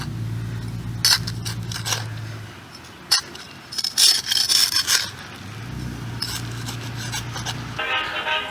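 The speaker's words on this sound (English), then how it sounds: "I'm able to come back in here with this little gardener's trowel and just scoop the dirt out" A small gardener's trowel scooping dirt during an excavation, heard as several scraping, rasping strokes separated by pauses, up close, with a low hum in the background.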